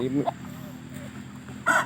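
Chickens cluck on a small farm during an evening walk, a few short clucks near the start and end with someone talking over them.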